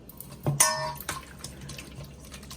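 Sliced chicken breast being mixed by hand with water gives a few wet splashes and squelches, one sharp slap near the start followed by softer, scattered sloshing.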